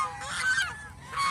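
Domestic geese honk in a few loud, nasal calls, the first group running close together, then a short pause before another honk.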